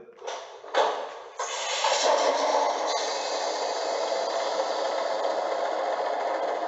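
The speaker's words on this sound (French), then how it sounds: "On va lancer le moteur, éclairage de la cabine avant, voilà. Lancement du moteur." A 1/45-scale Lenz V 36 diesel model locomotive starts up through its onboard speaker: a couple of sharp clicks and a cranking burst, then the engine settles into a steady, moderately loud idle drone.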